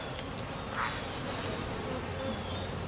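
Honey bees swarm around an opened backyard hive with drones present, their dense, steady buzzing filling the air close by and unbroken from start to finish.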